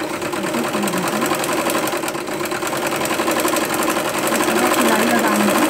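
A sewing machine runs steadily, stitching fabric for a home-made nighty gown, with a continuous rapid mechanical hum throughout, close and fairly loud.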